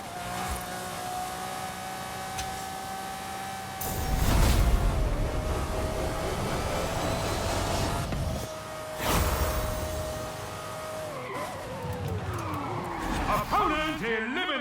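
Cars race in a video game vehicle elimination challenge, including a Hoonigan RS-RX and a Volkswagen Beetle, with a steady engine drone broken by loud crashes, skids and tire squeals toward the end.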